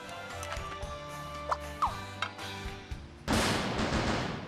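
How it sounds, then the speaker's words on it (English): A bomb explodes in the video game Scribblenauts Unlimited: a sudden broad blast cuts in late over light game music and small clicks, then rumbles on loudly to the end. "Bomb."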